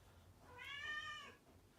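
A single cat gives one short, clear meow, fairly faint against a quiet room background.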